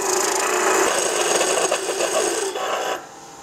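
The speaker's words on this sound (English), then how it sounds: "we'll size the tenon with a beading and parting tool here and a 15/16 wrench" A wood lathe spinning while a beading and parting tool cuts down a tenon, a steady close scraping rasp that holds for about three seconds and then drops away to a quieter hum.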